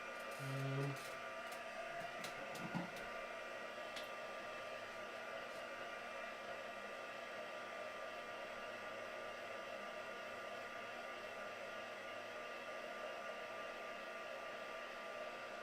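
Hair dryer drying paint, running as a continuous, even whooshing drone throughout, with a few faint clicks and knocks near the start.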